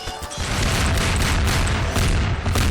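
A large explosion in Garry's Mod, a loud boom that erupts after a brief lead-in and rolls on as a sustained, crackling rumble.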